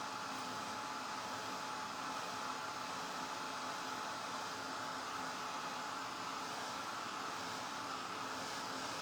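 A hair dryer blows steadily on freshly painted frosted-gingerbread decoration on a tissue box, a continuous even whir at moderate distance with no talking.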